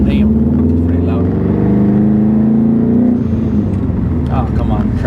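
A Subaru STI turbo engine with a vented hood and an HKS blow-off valve drones loudly from inside the moving car, a low steady engine tone with faint high hisses that may be valve releases.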